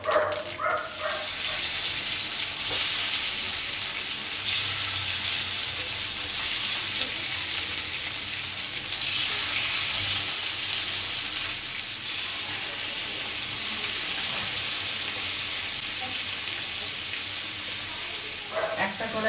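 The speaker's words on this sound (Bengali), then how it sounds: "একটা কড়াইয়ে শোল মাছটা দিয়েছি, আর একটা কড়াইয়ে আমি আলুটা ভেজে নেবো।" A snakehead fish fries in hot oil in a wok, giving a loud, continuous crackling sizzle up close that ebbs and swells slightly, while someone talks over it.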